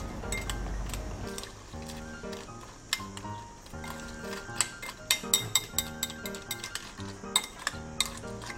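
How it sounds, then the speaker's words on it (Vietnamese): Fresh milk being stirred into a drink, with a spoon clinking repeatedly against the cup in an uneven rhythm, close and fairly clear over background music with steady chords. "Khuấy đều lên."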